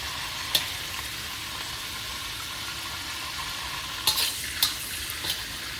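Pineapple shrimp fried rice stir-fries in a pan with a steady low sizzle, broken by a few sharp scrapes and clinks of a utensil against the pan.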